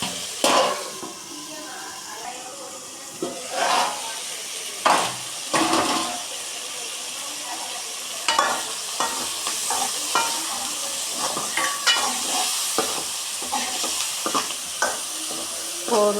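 Small onions fry in oil for a village-style curry, crackling loudly under repeated stirring and scraping strokes of a spoon against the pot.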